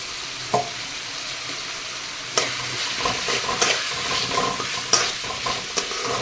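Ginger-garlic paste and crushed green chilli sizzle steadily in oil in a pan for a fish and brinjal curry. A continuous frying hiss runs throughout, punctuated by occasional sharp clinks of a spatula stirring against the pan.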